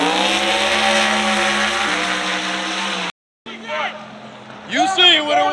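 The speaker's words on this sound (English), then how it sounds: "He's boosting the turbo now." A drag race car with turbo boost roars hard and loud at a raceway, then cuts out abruptly; after a short gap, other engines rev and sweep past at a distance under crowd noise.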